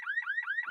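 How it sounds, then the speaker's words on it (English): Car alarm going off, a rapid repeating electronic chirp that sweeps upward in pitch in quick cycles, steady and moderately distant. "This is the sound of trying to unlock the wrong car."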